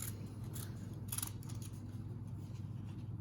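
Scissors snip through paper in a quiet room, a few short crisp cuts clustered near the start over a steady low background hum, with no talking.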